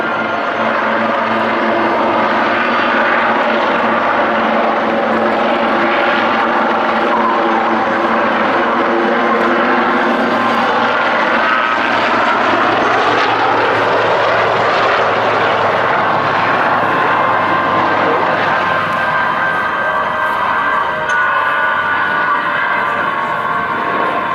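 Royal Navy Black Cats display helicopters at the Luchtmachtdagen air show thrum loudly and continuously, rotor and engine pitch sweeping as the aircraft pass overhead, with no voices.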